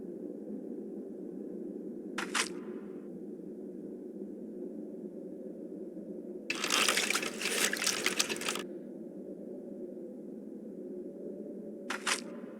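Wet laundry squeezed through the rollers of a wringer in a point-and-click game: a short burst of loud watery crackling and squelching stands out over a steady low hum, with two brief clicks before and after.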